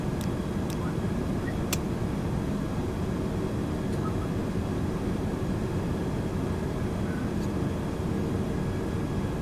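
A flight-sim airplane sits on the runway with a steady, loud engine drone that holds at one level throughout, broken by a few faint clicks.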